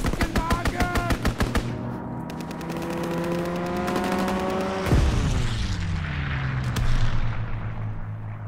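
Strafing-run gunfire in Call of Duty: WWII, a loud rapid stream of automatic fire that blends into sustained roaring aircraft and explosion noise, with a heavy boom midway.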